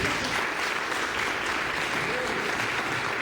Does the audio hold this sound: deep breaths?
no